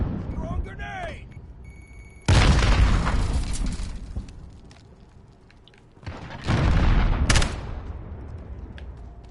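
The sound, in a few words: grenade explosion in video game Modern Warfare Beta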